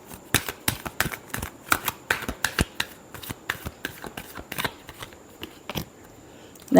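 Tarot cards being shuffled by hand in a steady run of crisp, sharp slaps and flicks, close up and fairly quiet, with no voices.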